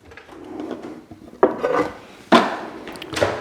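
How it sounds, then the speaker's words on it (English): Wooden timber chopping board picked up and set down on a kitchen counter, with a soft rubbing slide followed by two sharp, close knocks of wood on the surface. "Grab a chopping board."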